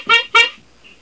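A horn gives two quick, loud honks in a row, each short and bright, followed by near silence.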